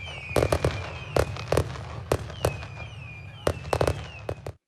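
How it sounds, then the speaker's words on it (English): Fireworks sound effect played during the Interspeech 2020 closing ceremony, featuring Shenzhen: repeated sharp bangs and crackling bursts in irregular clusters over a steady low rumble, loud and close, with no talking. "I guess if we had the fireworks after each time, it might get tiring."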